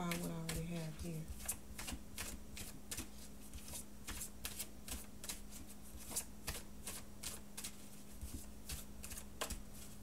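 A deck of cards is shuffled close by, a run of quick, crisp riffling flicks at a steady rhythm. A low hum sits underneath and a brief voice is heard at the start.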